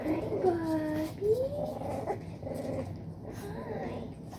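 A month-old puppy growls softly and whimpers in high wavering whines, close by, with a person's voice talking gently around it.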